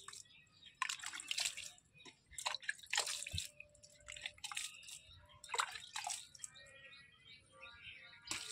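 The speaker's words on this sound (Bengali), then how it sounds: "পাশের গাছগুলোতেও জল দিয়ে দিলাম" Water trickles and drips onto garden soil as drumstick and neighboring plants are watered, with irregular splashes and pours close by and quiet, with no talking.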